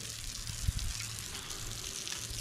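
Water splashed onto a cherry wood piece to wash it and bring out its figure: a brief wet splash near the start, then a steady trickling wash under a low background hum.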